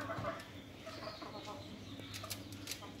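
Moroccan hens raised for laying eggs cluck softly in a poultry pen, faint and fairly distant, with a few wing rustles under a low steady hum.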